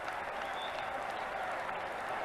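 A moderate football crowd of about 12,000 at a Spurs v Barnsley League Cup second round match cheering and applauding, a steady distant wash of noise with no breaks.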